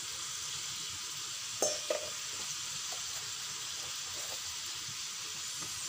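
Crab in tomato sauce with spices sizzling steadily in a pan, a continuous bright hiss with a few soft clinks of stirring, close and even in level.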